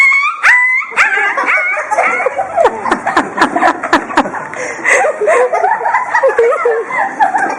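A dog barks in short yips and whimpers repeatedly, close and fairly loud, with people talking underneath throughout.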